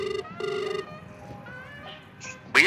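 An outgoing phone call rings back through the handset in two buzzing pulses, followed by a quieter gap and a sudden loud burst at the end.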